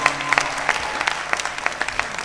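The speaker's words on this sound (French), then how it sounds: "On va l'applaudir très très fort encore une fois," An audience applauds contestant Sam Cocoflor from Dédougou at a televised semi-final contest, with sustained, dense clapping from a crowd and sharper individual claps standing out throughout.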